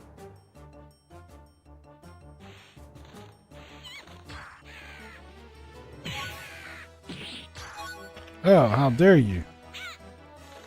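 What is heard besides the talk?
dodo-like bird creature calling in a video game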